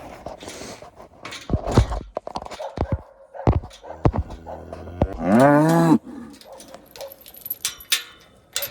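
Cattle on a homestead bellow nearby, with one long, loud moo standing out among clattering gate and hoof sounds and other scattered farmyard noises.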